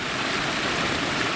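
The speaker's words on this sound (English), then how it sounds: "There's a big waterfall here at the top of the parking lot." A big waterfall at the top of a mountain trailhead parking lot roars in a steady, broadband rush, close and loud, with no voices over it.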